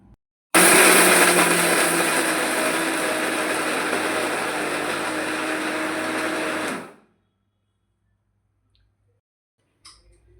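A kitchen mixer grinder runs steadily for about six seconds, blending chutney with two spoons of red chili powder and salt, a loud continuous whirring that cuts off abruptly into silence.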